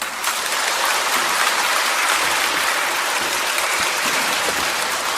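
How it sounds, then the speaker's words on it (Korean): Sustained audience applause at a Catholic gathering honoring a nun, dense steady clapping from a crowd that fills the whole stretch at an even level, with no talking. "수고 많으신 수녀님께 다시 한번 큰 박수 부탁드립니다"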